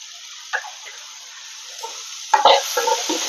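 Curry leaves dropped into a hot pan and stirred: a faint background hiss, then a sharp sputtering burst and several scraping stirs near the end.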